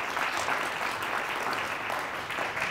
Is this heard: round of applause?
yes